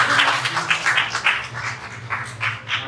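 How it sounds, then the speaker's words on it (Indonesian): A congregation claps at a church Christmas service. The applause is loud, close and steady, with a dense, uneven patter of hands over a low background hum, and it lasts for about three seconds. "Boleh tepuk tangan."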